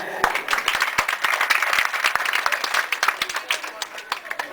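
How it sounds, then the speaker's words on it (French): Ceremony audience applauds young teachers with brisk, crackling clapping from a sizeable crowd, individual sharp claps standing out in an uneven, lively rhythm. "Avec l'aide de vos jeunes professeurs dynamiques et dévoués, ils sont là. Applaudissez-les."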